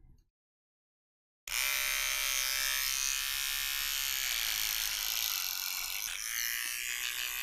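An electric beard trimmer starts abruptly after a short silence and runs as a steady, loud, close buzz, with the tone shifting slightly as it moves over the beard.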